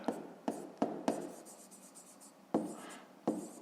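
A pen scratches on paper during a fifth-grade maths exercise. Several short, close strokes come in quick bursts with soft scratchy trails and a brief pause in the middle, and no voice is heard.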